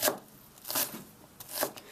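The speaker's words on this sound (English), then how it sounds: "So now I'm chopping the baby pak choy." A knife chops baby pak choy on a cutting board in a home kitchen, three crisp separate cuts spaced unevenly, close and clear with nothing else heard.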